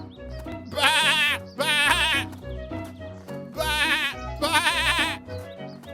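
Cartoon lambs bleat four times in two close pairs, loud and near, over a low steady background.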